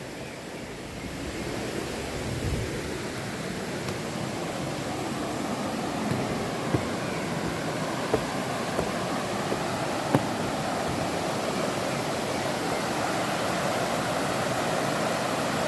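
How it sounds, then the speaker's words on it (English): River rapids and a small waterfall on a river near Minca, Colombia, rush in a steady, dense roar that fills the whole stretch without pause, close and fairly loud, with no voices. "so here's a little waterfall, if you call it that, or rapids."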